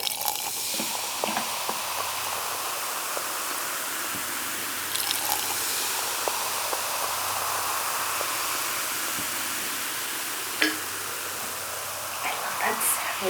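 Kiwi strawberry sparkling water pours into a glass with a sustained fizzy hiss and scattered pops and bubbling drips, close and fairly clear throughout.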